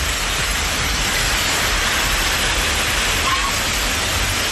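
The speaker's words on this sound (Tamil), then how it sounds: "சென்னை மாநகர் மற்றும் புறநகரின் சில பகுதிகளில் பரவலாக மழை பெய்தது" Steady rain falls across parts of Chennai city and its suburbs, a dense, even hiss with no breaks that stays loud and constant throughout, with no voices.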